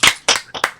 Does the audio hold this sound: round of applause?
yes